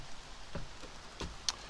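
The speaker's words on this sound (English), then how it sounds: "In fact, it's raining again right now." Rain falling on the tree canopy of an Ontario forest in fall, heard from beneath the leaves as a faint, soft patter with a few sharper drops landing near the listener, no voices.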